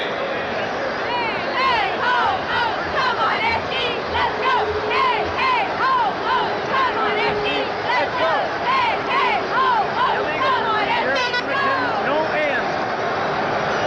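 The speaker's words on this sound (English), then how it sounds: "Little cheer, girls." Cheerleaders for the Edmonton Eskimos chant rhythmically at the 1977 Grey Cup football game in a stadium, voices rising and falling in repeated bursts over a broad crowd roar.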